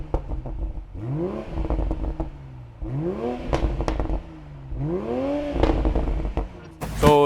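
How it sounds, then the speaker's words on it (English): A Toyota Supra 3.0 GR on its stock exhaust revs up in repeated rising blips, roughly four throttle pulls with crackles between, loud and close. "I'll show a bit of the stock sound from this GR spec as well."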